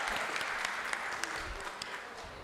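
An audience at a dental care conference bursts into applause: dense, steady clapping from many hands that holds evenly throughout, close and moderately loud, with no voices.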